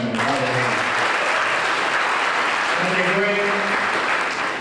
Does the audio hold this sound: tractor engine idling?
no